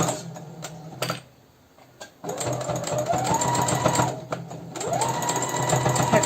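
A sewing machine backstitching a Japanese-style baby slipper, running in close, steady whirring bursts that speed up and settle, broken by a short pause and clicks.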